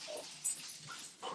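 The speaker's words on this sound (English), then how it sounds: "my dogs chasing the cat around the house" Pet dogs yip and whimper indoors while chasing a cat around a house, with short, fairly faint excited cries over a steady background hiss and no talking.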